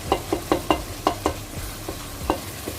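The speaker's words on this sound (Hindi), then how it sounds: "इसको हम तकरीबन 2 मिनट अच्छे से भूनेंगे" Cauliflower sizzles in a pan with red chili powder for aloo gobi while a spoon scrapes and stirs it in a steady rhythm, sharp repeated strokes over a soft frying hiss.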